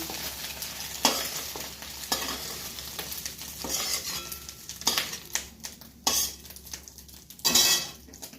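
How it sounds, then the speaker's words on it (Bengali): A fried egg is lifted out of a frying pan, with a low sizzle of hot oil behind scattered metal scrapes and clinks of a utensil against the pan, a few sharper knocks standing out. "ডিমটাও আমার ভাজা হয়ে গিয়েছে তো আমি তুলে নিচ্ছি"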